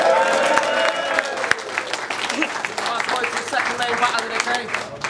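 A crowd at a Don't Flop rap battle in Manchester cheers and applauds steadily, a dense continuous roar of clapping and shouting with no gaps.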